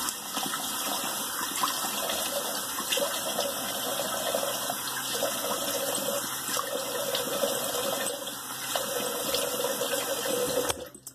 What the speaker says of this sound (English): let me rinse totally with cold water and I'll be right back